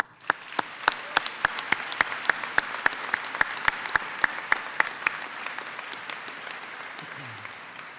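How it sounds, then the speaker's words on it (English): A high school graduation audience applauds. One nearby pair of hands claps in a crisp, steady rhythm over softer crowd clapping, and the sharp claps stop partway through while the general applause fades out. "Let's give them a round of applause."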